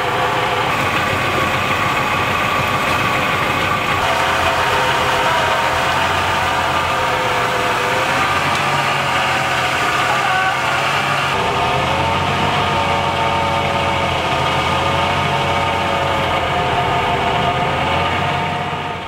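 A vehicle engine that is overheating badly on a long road trip in India runs loud and steady at close range. The rough, continuous drone carries audible cylinder and piston knocking throughout, and no one speaks.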